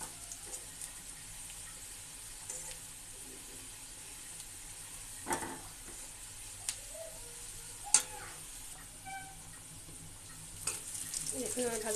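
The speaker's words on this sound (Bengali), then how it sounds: "এ পর্যায়ে আমি কিছু পাঁচফোড়ন অ্যাড করব।" Panch phoron spices frying with onion in oil in a pan, giving a quiet, steady sizzle with a few scattered ticks and pops and a brief louder crackle, and no voices.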